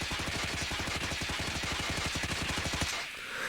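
Sustained rapid automatic burst from a CR-56 AMAX assault rifle in a shooter game, steady evenly spaced shots close and loud for about three seconds, then cutting off to quiet.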